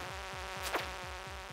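Mosquitoes buzz continuously in the Stardew Valley video game, a thin, steady whine with a pulsing flutter, faint and unbroken throughout.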